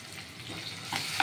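Garlic, green chilli and ginger fry in oil in a pan for a chilli cauliflower dish, giving a continuous close sizzle with stirring scrapes and a sharp clink near the end, with no voices.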